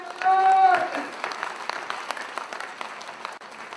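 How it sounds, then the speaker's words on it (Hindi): A live audience claps loudly right after a Hindi motivational speaker asks for big applause, the sound starting at full strength and then thinning into scattered, softer claps over a few seconds. "जोरदार तालियां हो जाए।"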